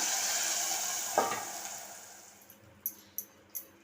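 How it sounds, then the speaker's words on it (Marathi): Curry leaves sizzle loudly in hot oil as they are stirred in a pan for a Konkani tamarind kadhi. The frying hiss slowly fades, and a spoon then clinks against the pan several times. "थोडीशी कढीपत्त्याची पाने घालायचे आता चमच्याने थोडंसं फिरून घ्यायचं आहे"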